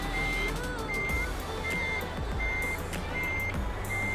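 Steady reversing beeps from a truck in Euro Truck Simulator 2, evenly spaced tones repeating about every second over a continuous low engine rumble.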